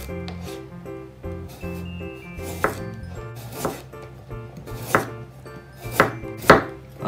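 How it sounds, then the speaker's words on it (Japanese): A kitchen knife chops a raw carrot on a cutting board, with rapid rhythmic tapping at first, then several louder, sharper cuts spaced further apart, close and clear with no voices. "じゃあ最後は問題の人参。 まずはこちらの包丁から。"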